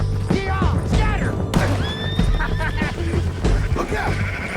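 Horse neighing in Red Dead Redemption 2, several loud whinnies in quick succession over tense shouting voices, with hoof thuds and background commotion throughout.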